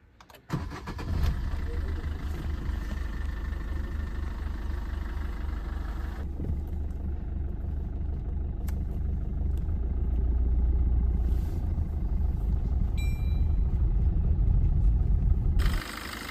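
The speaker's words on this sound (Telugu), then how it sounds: "కార్ కూడా ఒకసారి స్టార్ట్ చేసి అయితే చూద్దాం కండిషన్ ఎలా ఉందో." A 2019 Maruti Suzuki Dzire VDi diesel engine cranks and catches, then settles into a steady idling rumble that grows slightly louder before cutting off near the end.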